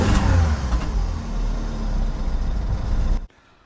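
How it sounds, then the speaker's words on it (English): A badly damaged car engine runs rough and ragged, a loud, close, rattling clatter with uneven revs over a few seconds before cutting off abruptly. "this thing sounds like a bag of nails"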